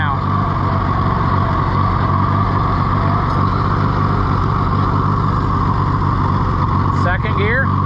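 A CASE VAC tractor engine runs steadily with a loud, close, continuous low rumble and throb that holds without pauses, and a brief squeaky sound near the end.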